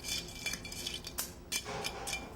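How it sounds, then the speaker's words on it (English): A spoon stirs a Bloody Mary in a glass, giving light repeated clinks and scrapes against the glass at close range, with no talking. "Never shake a Bloody Mary. Always stir it."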